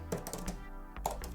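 Fingers typing on an Apple iPad Magic Keyboard, a quick close run of soft plasticky key clicks in an uneven rhythm with a brief pause partway through.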